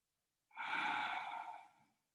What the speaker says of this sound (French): Tu entends le ronflement de ta gorge. Ujjayi. Comme un gargarisme d'air qui vient nettoyer ta trachée.